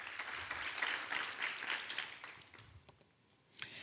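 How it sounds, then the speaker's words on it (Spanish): A church congregation applauds during a Spanish-language sermon, a sustained wash of clapping that gradually thins and fades, with a brief sharper burst near the end. "dale un aplauso al Rey de Reyes y Señor de Señores"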